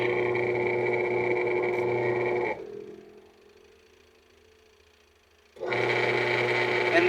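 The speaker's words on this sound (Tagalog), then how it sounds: "Tapos i-try naman natin yung kanyang wash motor." A washing machine's wash motor runs during a repair test, a loud steady mechanical hum with a strong low drone that stops for about three seconds and then starts again just as loudly.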